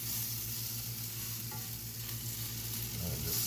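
Hash browns frying in a greasy pan as they are spread out with a utensil, a constant low sizzle with faint scraping strokes, a steady background hum underneath, close and quiet with no talking.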